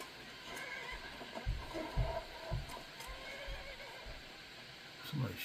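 A horse in the video game Skyrim whinnies and snorts while its hooves thud in a slow, uneven clip-clop, close and fairly loud over steady ambient game background.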